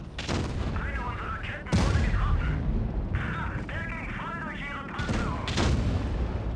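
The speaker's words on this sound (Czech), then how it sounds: "Dobře, foch vystřelil." A Foch tank destroyer's gun fires in World of Tanks Blitz, heavy booming shots and battle noise landing in a few bursts, under a man's ongoing speech and game sounds.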